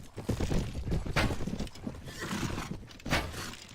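Horse neighing in a medieval battle video game, a few whinnies rising over busy battlefield noise and clattering, fairly close and loud for under four seconds.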